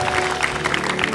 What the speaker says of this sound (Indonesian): Tepuk tangan dong buat Mas Ayu Anastasia.